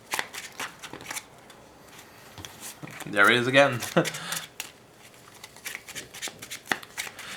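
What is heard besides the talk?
shuffling a deck of playing cards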